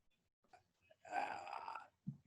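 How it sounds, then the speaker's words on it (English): A single drawn-out burp from someone drinking, rising from soft sounds into a loud, rough belch lasting most of a second, then a short low gulp after it. "I'm like fucking burping because I'm drinking at the same time"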